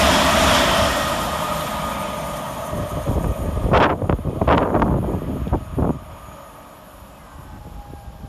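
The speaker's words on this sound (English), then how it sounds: "Passing next through the station for Heathrow Express is 387 131 and 387 132" A Heathrow Express class 387 electric train, units 387 131 and 387 132, passes through Hanwell station with a loud rushing roar that fades, followed by several sharp rail clanks and squeals. Wind buffets the microphone throughout.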